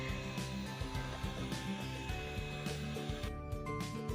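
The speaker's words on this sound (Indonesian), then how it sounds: "Oke, kita mixer dulu." An electric mixer beats cheese cookie dough with a steady, whirring buzz, close and continuous, and its pitch wavers slightly as the beaters work through the batter.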